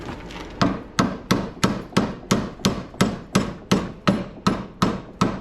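A blacksmith hammers a hot steel fire poker on an anvil, sounding about thirteen sharp, ringing metallic strikes in an even rhythm, close and loud, each decaying before the next, with no talking.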